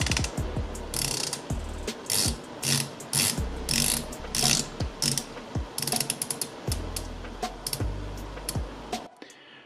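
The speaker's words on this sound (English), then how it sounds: "Doxa is known for having excellent bezel action, so let's try this one" A Doxa dive watch bezel is turned in short runs of crisp, close ratcheting clicks, each run a quick series of precise detents with brief pauses between turns.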